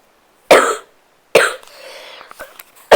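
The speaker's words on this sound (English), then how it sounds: "Next time I record, I hope I won't have this cough." Two sharp, close coughs about a second apart, the second trailing into rough throat noise, followed by a third cough starting at the very end.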